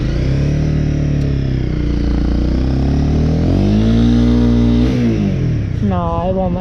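A motorcycle engine idles loudly and close, then revs up and falls back in rising and falling sweeps before a burnout attempt, with a voice speaking over it near the end.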